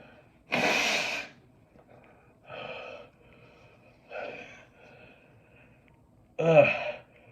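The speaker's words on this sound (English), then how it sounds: "I'm gonna blow my nose" Someone blows their nose hard after eating a fiery hot chip, giving a long forceful burst followed by three shorter, wetter blows spaced a second or two apart, close and loud against a quiet room.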